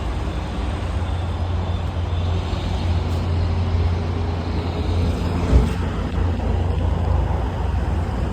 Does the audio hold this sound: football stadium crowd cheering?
no